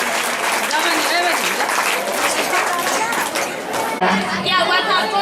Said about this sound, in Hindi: बहन परमेश्वर को जोरदार तालियों के साथ धन्यवाद देती है